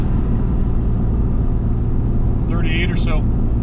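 A Ram 3500 dually pickup's engine drones low and steady at highway speed while towing a CAT 310 excavator, a constant heavy rumble heard from inside the cab with a brief higher chirp near the end.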